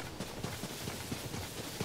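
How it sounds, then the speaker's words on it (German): Horse hooves clip-clopping in the video game The Legend of Zelda: Tears of the Kingdom, a soft, quick, steady trot out on the prairie, faint and even throughout with no talking. "So, ich hole mir noch mein Pferdchen."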